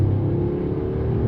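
A 2021 Mercedes E450 4MATIC accelerates at full throttle in fourth gear, a loud, steady low engine drone with a rising, sustained tone heard from inside the cabin.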